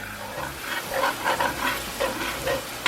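Vegetables sizzle in a pan while Cajun BBQ shrimp is being made: a steady close crackle of frying with a few louder stirring bursts, and no one talking.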